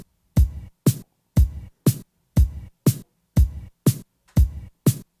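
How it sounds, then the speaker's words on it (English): Punchy kick drum hits from an Ableton Drum Sampler, each topped with an automated burst of noise acting as a snare layer, playing a steady pattern of about eleven dry, loud hits with short gaps between them. "there is a noise burst on top of that kick drum"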